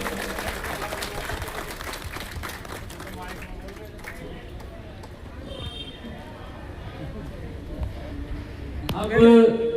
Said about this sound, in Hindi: तालियां जोर से नहीं बज रही, जोर से बजाइए।